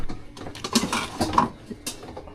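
Metal cooking pots and their lids clatter and clank together in a home kitchen, a burst of loud uneven knocks and rattles with a few sharp metallic rings.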